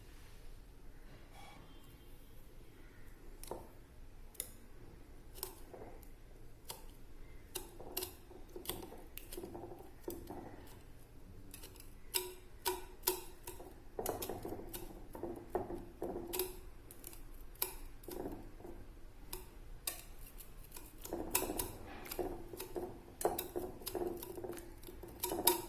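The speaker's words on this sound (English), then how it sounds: "You have to mash it really nicely so that it thickens the milk a bit." A whisk mashes banana into sweetened milk in a bowl, giving a steady run of quick, close taps and light scraping clicks at low volume, with no talk.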